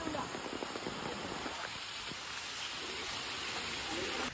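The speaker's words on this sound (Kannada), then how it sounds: "ಅಷ್ಟೊಂದು ಮಳೆ ಇದೆ." Heavy rain pours at night on a road near Bantwal, a dense, even hiss of downpour that fills the whole recording, with no talking over it.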